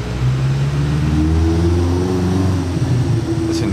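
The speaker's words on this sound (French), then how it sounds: "Oh, la Gordini à l'ancienne." A classic Gordini car passes close by, its mid-pitched engine note steady and loud for a few seconds on a Monaco street, with no talk over it.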